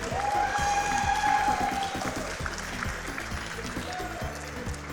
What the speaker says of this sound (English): All right, you guys hear the cheering.